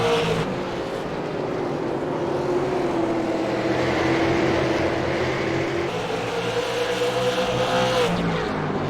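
Late model stock cars, including a Mustang, a Dodge and a Chevy, race around an oval track at night, their engines roaring loud and steady, with the pitch rising and falling as the pack sweeps past.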